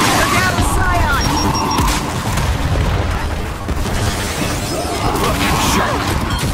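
A frag grenade blast amid a Gears 5 Horde firefight on the Dam map, heavy booming impacts layered with gunfire and crashing debris, with game voices calling out over the chaos.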